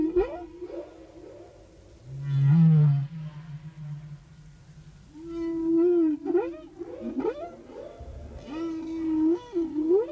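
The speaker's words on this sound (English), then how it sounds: "All of Hawaii's humpbacks sing the same basic song" Humpback whale song recorded off Hawaii, a series of long moaning tones and rising, warbling cries with deep low groans between, unhurried and echoing, with no other sounds present.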